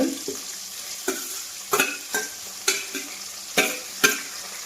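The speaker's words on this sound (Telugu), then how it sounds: "కొంచెం కొత్తిమీర ఉల్లిపాయ పచ్చిమిరపకాయ ముక్కలు వేపుదాము కొంచెం లైట్గా వేగిన దాకా ఉంచుతాము" Chopped onions, green chillies and curry leaves frying in an oil pan for a cauliflower fry curry, with a soft steady sizzle broken by a regular series of scraping stirs from a spatula.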